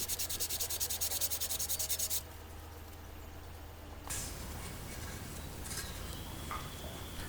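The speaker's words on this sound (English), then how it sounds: "Now I'm just sanding it nice and smooth with the rest of it." Rapid back-and-forth sanding strokes on a wooden guitar neck with a square headstock, a steady rhythmic rasp for about two seconds, then quieter workshop ambience and a soft rustle.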